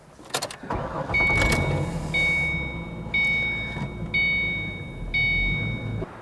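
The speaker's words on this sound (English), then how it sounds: "Okay, so just safely drive it off the ramps." A 2005 Ford Mustang rolls down off service ramps, its engine running steadily and close by, with a few short high chimes repeating at a regular one-second rhythm over the engine drone.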